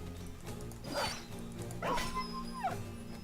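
Wounded, bleeding dog in the video game Battle Brothers gives three short whimpering yelps spaced about a second apart over a steady game soundtrack.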